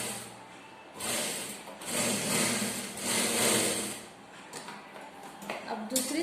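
A sewing machine stitches a blouse seam straight along a marked line in two short runs, one brief and one about two seconds long, with quieter pauses between them and a voice in the background.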